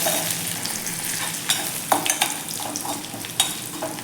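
Asafoetida and curry leaves sizzle in a hot oil tempering while being stirred, for a bell pepper dish, giving a steady frying hiss broken by several sharp crackles and spoon scrapes, close and alone.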